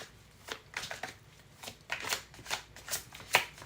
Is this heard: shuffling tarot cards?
yes